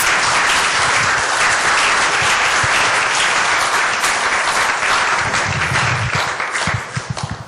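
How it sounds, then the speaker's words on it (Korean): A seminar audience gives a warm, sustained round of applause to welcome a speaker. The dense, loud clapping holds steady for several seconds and then thins out and fades near the end. "Let us welcome her with a warm round of applause."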